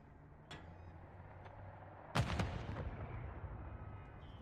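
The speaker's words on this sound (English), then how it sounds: "that nade was godlike" A grenade blast in Call of Duty Modern Warfare 3 lands as one sharp, loud burst with a rumbling tail, after a few faint thuds earlier.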